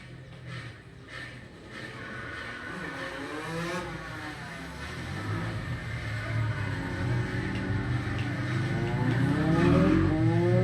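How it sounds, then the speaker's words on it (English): Motorbike engines whine and rev louder and higher in a video game, building over several seconds as they race past close by. "there's some people speeding on motorbikes"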